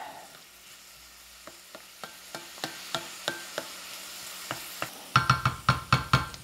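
Onions fry in a pan while a utensil stirs them in a steady rhythm of sharp taps and scrapes, getting louder and quicker near the end over a faint sizzle.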